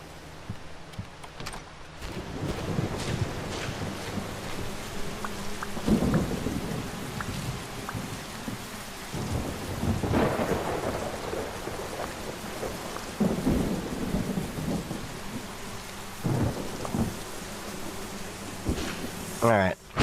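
A thunderstorm near electrical equipment brings steady rain and several loud, rumbling thunder claps throughout, with a voice speaking at times over the storm.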